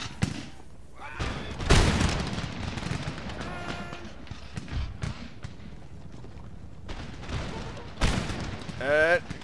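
Musket volley fire from a Polish-Lithuanian battle in Empire Total War, heard as several loud crackling, ragged bursts separated by quieter gaps, with background battle noise and someone talking over it.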